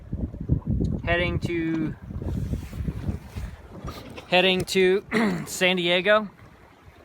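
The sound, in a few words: sailboat SV Coconut sailing in light wind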